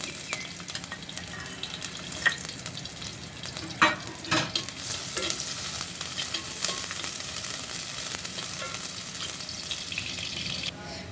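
Onions hiss and sizzle in hot oil in a kadai, a steady frying crackle with occasional stirring clinks and scrapes close by.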